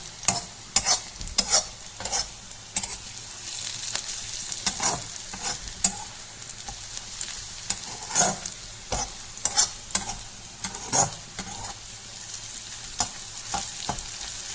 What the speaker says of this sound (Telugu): ఆనియన్స్ని ఇలా కదుపుతూ వేపించుకుంటూ ఉండాలి.